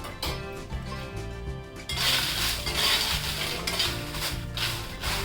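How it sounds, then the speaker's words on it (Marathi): Oil sizzles and crackles in a wok as Byadgi chillies are stirred and roasted in a little oil, with metal scraping sounds, the sizzle growing louder midway. "आता आपण मिरच्या भाजून घेऊया"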